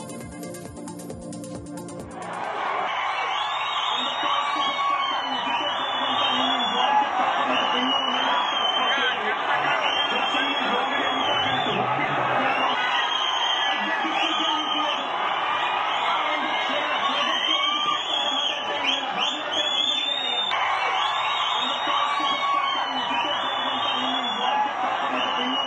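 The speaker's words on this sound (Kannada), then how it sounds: "ಆರ್ಸಿಬಿ ಗೆಲುವು ಹಿನ್ನೆಲೆ ಕೋಟೆ ನಾಡಿನಲ್ಲಿ ಅಭಿಮಾನಿಗಳು ರಸ್ತೆಗಿಳಿದು ಸಂಭ್ರಮಿಸಿದರು" Crowd of RCB cricket fans celebrating a win in the street at Nehru Circle and Gandhi Circle in Challakere town, with a loud, continuous roar of cheering, shouting and chatter that swells after a short quieter start and stays dense throughout.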